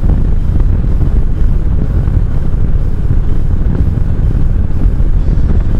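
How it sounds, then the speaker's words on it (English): Wind rushing past a motorcycle track helmet at 55 mph, a constant loud broadband roar and buffeting that stays steady throughout with no talk. "at 55 miles an hour, the wind's not too bad. I'm hoping that my microphone's not picking it up too much"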